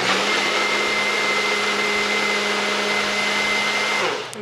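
A blender whirs at a steady high speed for several seconds, a constant loud motor drone that winds down abruptly at the end.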